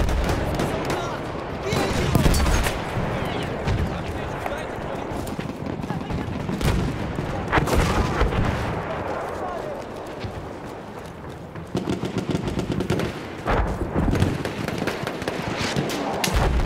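Continuous battle noise in Battlefield 1 Capture the Flag, with rattling machine-gun fire and scattered shots in dense, sustained bursts, close and loud, under shouted soldier voices.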